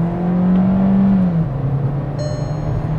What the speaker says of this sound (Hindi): अभी पुल करके देखते हैं एक बार गाड़ी को